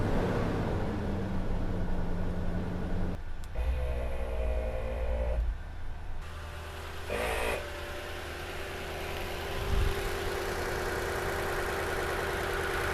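An ARB twin air compressor installed on a Lexus GX460 runs with a steady mechanical hum and drone, cycling with a brief change partway through, fairly close and without talk.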